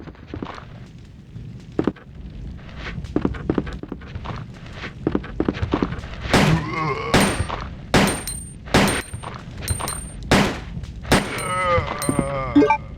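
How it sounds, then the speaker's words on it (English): Pistol gunshots ring out in the video game Resident Evil 2, a string of separate sharp cracks spaced irregularly, with ringing tails and other game noises between them. "So I will just see if I can use my pistol first"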